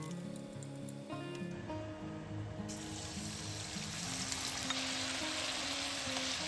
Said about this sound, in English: Fry the beef until browned